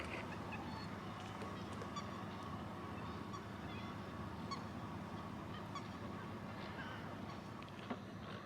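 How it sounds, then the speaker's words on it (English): A large flock of waterfowl on a Florida wildlife lake honks and calls faintly and continuously in the distance, with occasional sharper calls over a steady outdoor background. "See how many birds just litter this lake."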